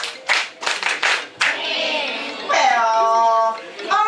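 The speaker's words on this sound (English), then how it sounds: "let's wish away the mosquito with a mosquito clap" Children in a reading session do a group 'mosquito clap', giving several sharp, loud claps in quick succession before the clapping stops and young voices talk and call out.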